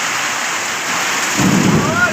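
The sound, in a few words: heavy rain with thunder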